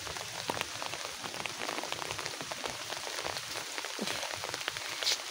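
Light, persistent rain patters continuously as a soft, even hiss around a house, with scattered individual drops tapping close by; fairly quiet and steady throughout, no voices.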